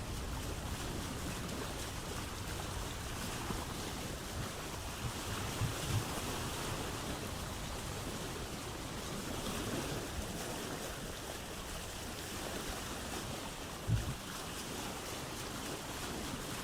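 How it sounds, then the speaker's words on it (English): A sailing boat runs down the coast on open ocean in the game Vintage Story, with steady rushing waves and wind blowing throughout at a low, even level. One brief knock comes near the end. "So I guess we're gonna sail down the coast now."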